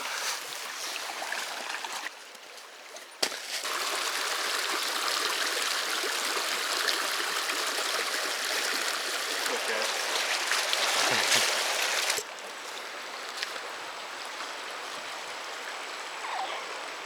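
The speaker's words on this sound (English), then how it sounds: "We begin to hear the roaring of water falling through the canyon." Steady, loud rush of water falling through a canyon near Moab, Utah, fills the whole clip, a broad roaring wash that briefly dips early on and drops slightly in level near the end.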